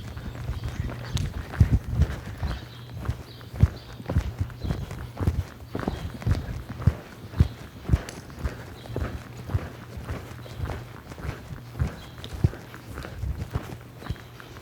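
Hooves of a horse walking and loping around a barrel-racing arena, a steady run of soft, close thuds with an irregular rhythm and a low background hum, no voices.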